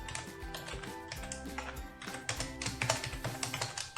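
Quick, steady keystrokes patter on a computer keyboard as HTML list code is typed, close and fairly quiet, with no talking.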